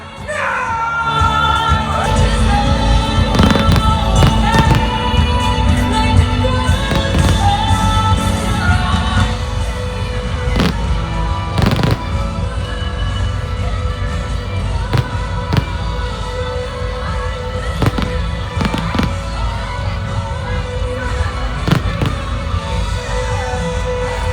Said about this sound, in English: Fireworks started exactly at midnight and lasted for 30 minutes.